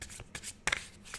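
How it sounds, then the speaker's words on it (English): Tarot cards being shuffled by hand, several quick riffling bursts and soft slaps at close range, fairly quiet, with no talk over them. "As I fail at shuffling cards."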